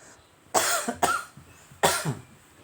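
Two harsh, close coughing fits break the quiet, the first a quick double cough, the second a single hacking cough a second later.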